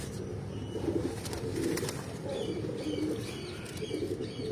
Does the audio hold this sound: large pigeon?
yes